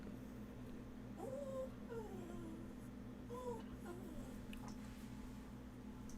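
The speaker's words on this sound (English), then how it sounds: "that's my dog whining" A dog whines in soft, rising and falling whimpers, a few faint drawn-out cries over a steady background hum, fairly quiet and somewhat distant indoors.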